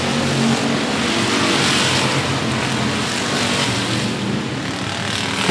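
Stock cars roar together on a short oval at 105 Speedway as the field accelerates on a green flag restart, a loud, dense and continuous engine drone with no talk.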